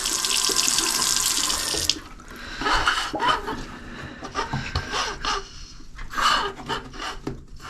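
Wet foam tire inserts are rinsed under a running tap, a steady rush of water that stops after two seconds, followed by squelchy squeezing and rubbing of the soaked foam in bursts.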